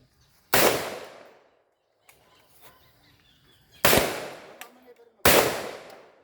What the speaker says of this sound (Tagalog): Still firing.